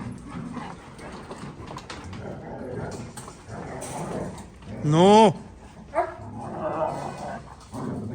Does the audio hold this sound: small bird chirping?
no